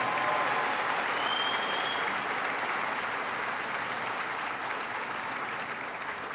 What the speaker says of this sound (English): So please give our young people a big round of applause.